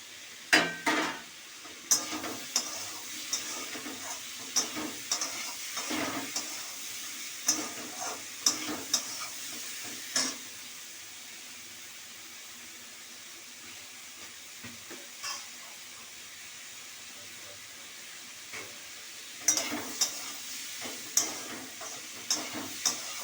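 Chopped tomato sizzles softly in a pan with potato and pointed gourd curry, while a utensil stirs and scrapes in scattered clicks and knocks, quiet and fairly close with no talking.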